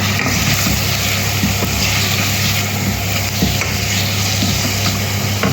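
Green beans sundal sautés in a pan with a loud, constant close sizzle and frequent stirring scrapes throughout.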